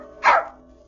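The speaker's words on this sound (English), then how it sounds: "And he had a dog named George." A dog named George gives a single sharp, close bark, short and bright, over a faint steady background hum.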